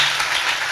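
A brief burst of audience applause from a church congregation at an evening worship service, dense and close, lasting under a second.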